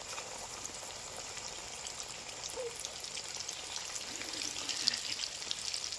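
Coated chicken pieces deep-frying in hot oil, a steady soft crackling hiss that holds evenly throughout and rises slightly toward the end, with no voices.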